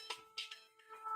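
A phone ringtone plays faintly in the background, a short melodic electronic tune of a few bright tonal notes with a steady underlying tone, heard alone without speech.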